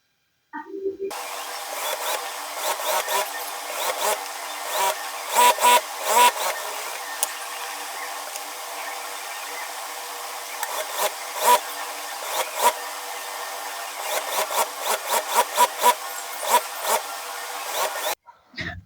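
A sewing machine stitches salwar fabric in a long continuous run, a close, steady mechanical whir with rapid rhythmic clatter and occasional louder bursts, stopping near the end.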